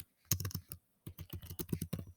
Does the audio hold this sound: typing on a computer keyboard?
yes